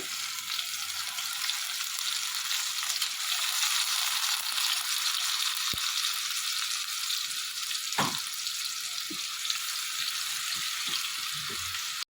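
Onion paste frying in hot oil for chicken gravy, a continuous bright sizzle holding steady throughout, with a few soft knocks and stirring sounds near the end.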